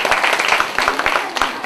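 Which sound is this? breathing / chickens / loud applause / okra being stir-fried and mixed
loud applause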